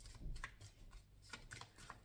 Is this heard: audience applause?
no